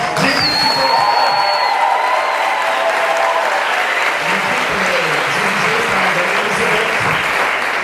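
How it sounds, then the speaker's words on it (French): A cabaret audience breaks into loud, sustained applause, a dense wash of clapping with some cheering and a whistle near the start, continuing evenly throughout. "on peut les applaudir encore bien fort"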